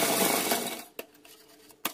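Sewing machine stitching elastic onto a small night suit: a dense mechanical whirring run for just under a second, then quieter handling with a couple of soft taps, close and fairly faint.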